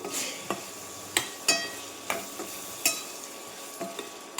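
A ladle stirs salted, spiced muskmelon curry in a pan. Soft frying sizzle runs underneath a string of crisp scraping clinks spaced about a second apart, close by, and no one speaks.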